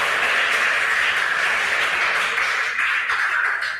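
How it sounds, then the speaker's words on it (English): Audience applause for quiz contestants at a regional qualifier contest, a loud, dense and steady wash of many hands clapping continuously throughout, with no talk. "Let's give a hand of applause for our contestants."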